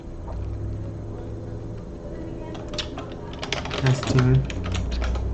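Fingers tap out a short burst of typing on a computer keyboard, a quick cluster of clicks rising partway through, close and clear over a steady background hum with no talking.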